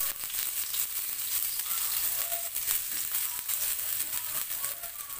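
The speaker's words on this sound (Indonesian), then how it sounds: "Panaskan minyak goreng secukupnya. Masukkan dahulu bawang merah dan bawang putih. Tumis hingga layu dan aromanya harum." Shallots and garlic sauté in hot frying oil, giving a steady, close sizzle with soft crackles throughout and no talk.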